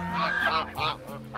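Geese honk at close range in a rough, nasal run of calls that overlap and change pitch over a little more than a second, with goslings about two weeks old nearby.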